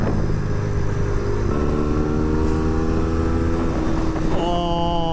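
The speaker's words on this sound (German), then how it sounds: "Okay, das ist jetzt das Motorrad von Lisa." A motorcycle engine in a video game drones steadily with a layered harmonic tone, shifting pitch slightly partway through and again near the end as if changing gear, over background music.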